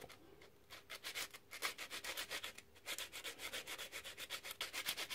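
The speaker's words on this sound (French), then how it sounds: "Donc je vais faire une petite lime de fortune. Je vais le limer très légèrement." A makeshift file rasping lightly across a piston ring, a quick series of short rhythmic back-and-forth scraping strokes, faint and close.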